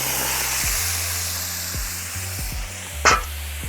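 Ghee sizzling in a hot pan while chicken cooks, a close, steady hiss with a few dull knocks underneath and a brief sharper crackle near the end, with no talking.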